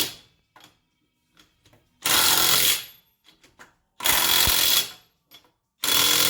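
A DEWALT 20V MAX XR impact wrench on its third setting tightens fasteners in three loud, close bursts of under a second each. The bursts are separated by quiet gaps with faint clicks and handling noise.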